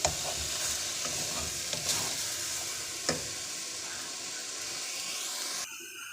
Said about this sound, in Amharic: ከሽንኩርቱ ጋር አንድ ላይ መጥበስ